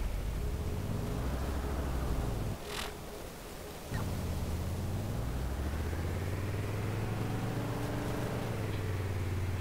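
Car engine from Borderlands droning steadily as the vehicle drives, its pitch rising and falling with speed, with a brief gap where the engine tone drops out before resuming.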